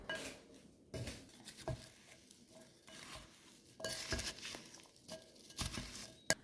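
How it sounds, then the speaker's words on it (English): A spoon stirs sugar into chopped rhubarb and strawberries in a bowl, giving soft repeated scrapes and clinks against the sides in an uneven rhythm, close and fairly quiet with no talking. "We're gonna stir this sugar up and then let it sit here"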